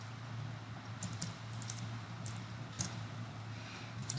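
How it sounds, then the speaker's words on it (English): Computer keyboard keys tapped in a steady run while entering numeric dimensions for a SolidWorks flange part model, a light clatter of clicks over a constant low hum. "Get all these numbers typed in."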